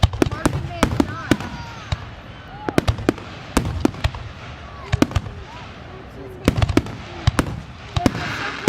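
Fourth of July fireworks going off in rapid clusters of sharp bangs and crackles, loud and fairly close, with pauses between volleys and voices talking underneath.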